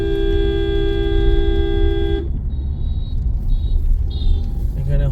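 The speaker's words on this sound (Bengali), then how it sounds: "এখানে হর্ন বাজি চলতে হবে, না তা না হলে উপায় নেই, কারণ একদম সরু রাস্তা।" A vehicle horn blares in one long, loud, steady blast on a narrow road, then a low engine rumble takes over, broken by several short, higher beeps from other horns.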